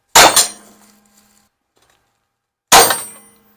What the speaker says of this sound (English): you're going to want to center punch where you want to put the holes